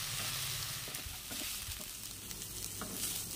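Boiled banana flower frying in an open pan, a quiet continuous sizzle with a few soft stirring scrapes, heard alone without any talk.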